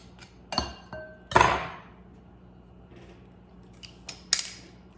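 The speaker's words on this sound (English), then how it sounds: "In with the clove, crushing it right into the bowl." A garlic clove is crushed into a bowl in a kitchen, giving several short, sharp clinks and knocks of a tool against the bowl with quiet gaps between them, close and fairly crisp.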